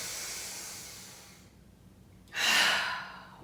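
Deep breathing through the mouth during an exercise: a long breathy exhale that fades into a pause, then a sharper, louder inhale or gasp, close and alone.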